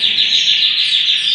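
Canaries in a breeding room chirp in a close, bright, continuous twittering, with no voices.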